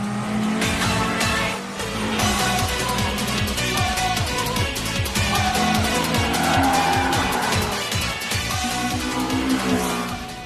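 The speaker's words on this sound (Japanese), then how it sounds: "86の新しいエンジンはすげえ。" A Toyota AE86 with a new engine racing in an Initial D anime battle: loud close engine roar with rapid rhythmic revving pulses and tire squeal, under dramatic music.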